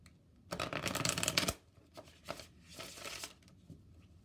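Cards from the Messages of Light and Clarity oracle deck riffle-shuffled close up in two or three quick bursts of crisp flapping, with quiet pauses between.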